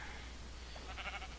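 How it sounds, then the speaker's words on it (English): A sheep in Minecraft, on the FTB Infinity modpack, gives one short faint bleat over a steady low background hum. "There is a sheep."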